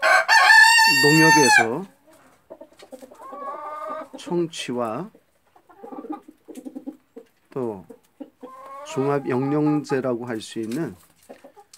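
Ogolgye silkie chickens crow and cluck close by in a farm coop, one long loud crow at the start followed by bursts of clucking and calls, while someone talks over them.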